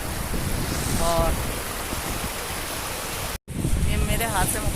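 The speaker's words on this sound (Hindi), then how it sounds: "बहुत तेज़ बारिश हो रही है।" Heavy rain pours in Makkah with a dense, steady hiss that blankets everything, and voices are heard faintly over it before a brief dropout.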